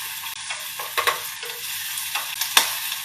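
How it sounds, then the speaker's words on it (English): Onions fry in a pot with a steady sizzle, broken by a few stirring scrapes and taps, close and fairly loud, with no talking. "So we start frying the onions."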